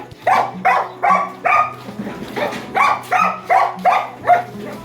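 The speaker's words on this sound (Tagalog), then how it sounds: "ang ingay ng aso natin" A dog barks repeatedly and loudly nearby, in a steady run of about ten sharp barks, with a low hum running underneath.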